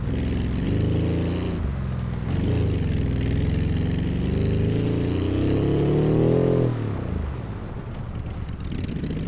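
Autobello Piccolina small car engine in a driving game, starved of oil and overheating, revving loudly and continuously with rising and falling pitch, a brief dip near the start and easing off toward the end.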